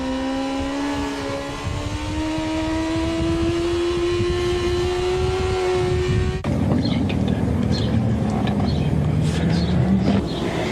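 A sport motorcycle under way, its engine a steady rising drone that jumps to a lower, rougher tone partway through, loud and continuous, with wind rush and no talk.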